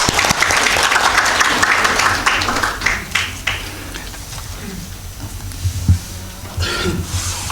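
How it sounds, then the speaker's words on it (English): Audience applause welcoming someone speaker at a Buddhist conference on the Satipaṭṭhāna Sutta, loud and dense at first, then thinning into scattered claps and a few coughs. "Please give her a big round of applause."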